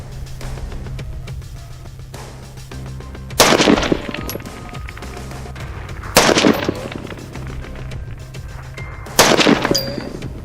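Three loud rifle shots ring out at a shooting range while the rifle is being zeroed, evenly spaced about three seconds apart, each one sharp and close with a short echo and quiet between them.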